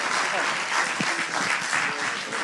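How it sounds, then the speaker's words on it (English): Applause from a workshop audience for the speakers at a self-driving labs session, steady clapping filling the room for the whole short stretch. "Well, big applause for our speakers."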